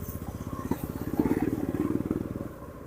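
A trail motorcycle on a rough, unpaved road chugs past with a rapid pulsing engine beat that swells and then eases, its rattle carrying over a quiet background.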